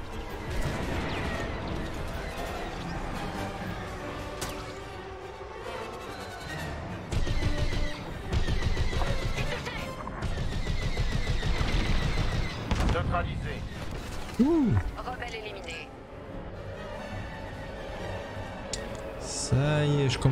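Blaster fire strikes the player's ship during a Star Wars Squadrons space battle, with bursts of booming shots and impacts layered over engine roar and game effects, loudest in several clustered volleys.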